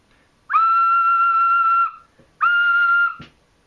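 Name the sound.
clay pendant ocarina being played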